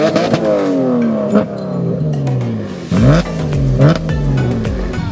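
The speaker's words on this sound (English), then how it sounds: "These two had a rev off," A BMW M3 and another car with aftermarket exhausts trade loud revs at a car show, sharp blips rising and falling in pitch, overlapping bursts and crackles, a deeper engine joining partway through.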